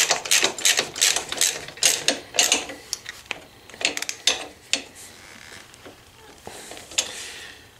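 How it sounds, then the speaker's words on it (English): Bolts on Honda Africa Twin CRF1000L AltRider lower crash bars being tightened with a ratchet, rapid bursts of close metallic clicking that pause and restart, then fade to a few lighter clicks. "Go ahead and tighten these down."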